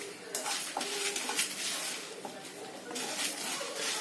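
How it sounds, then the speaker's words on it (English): Coriander seeds and whole pepper being stirred as they dry-roast in a pan for a chicken curry, heard as a steady close scraping and rattling of spices against the metal with soft sizzling throughout. "Keep stirring it."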